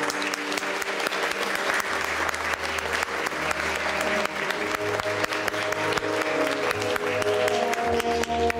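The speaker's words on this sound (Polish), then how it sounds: "Brawa jeszcze raz." Sustained applause from a theatre festival audience in Tomaszów Mazowiecki at an awards presentation, loud and dense throughout, with a faint background hum beneath the clapping.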